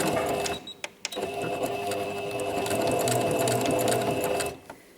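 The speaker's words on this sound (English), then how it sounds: "we are sewing through quite a few layers of fabric" A sewing machine starts with a backstitch and then runs steadily through several thick layers of fabric for a bag. The close, continuous mechanical whir has a few clicks near the start and stops just before the end.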